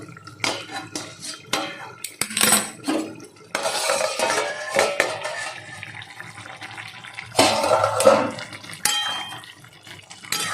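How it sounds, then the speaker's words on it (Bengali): A lid comes off a pan of simmering mourola fish curry on a gas stove, followed by clattering metal pot and utensil sounds and bubbling, close and irregular, with no one talking. "এবারে 5 মিনিট হয়ে গেছে, ঢাকনাটা খুলে নেবো।"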